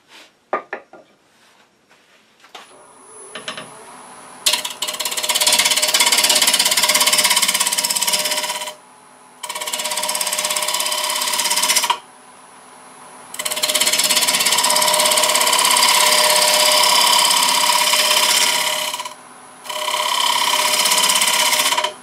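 A wood lathe spins a child's stool leg while a gouge rounds over and profiles it, making loud, close bursts of rough scraping and chattering cutting noise separated by short pauses.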